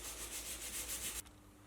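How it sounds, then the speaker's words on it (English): Hand sanding of a folding knife blade in a workshop gives a faint, steady rhythmic scratching with regular strokes that stops abruptly near the end, leaving quiet room tone. "Still sanding."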